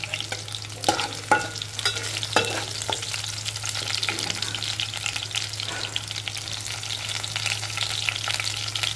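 Onions, green chillies and curry leaves frying in a pan for a pumpkin seed curry, giving a close crackling sizzle with sharp spits and stir clatter early on that settles into a steady hiss.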